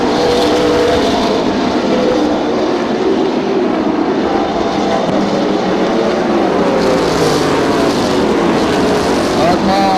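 Limited late model race cars roar around an oval track in a continuous, dense engine drone with a steady loudness throughout, heard from a distance under the crowd and track ambience.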